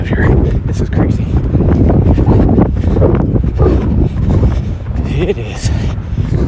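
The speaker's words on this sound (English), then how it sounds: "It is windy out here right now." Strong wind buffets the microphone in loud, continuous rumbling gusts while a runner heads up a hill on an outdoor route near the Washington Monument, with no talking.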